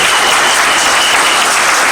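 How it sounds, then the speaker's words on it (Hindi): An audience applauds at a stage event at a business recognition ceremony, producing steady, loud, dense clapping throughout with no gaps. "उनके लिए जोरदार ताली होनी चाहिए, जोरदार ताली सभी के लिए।"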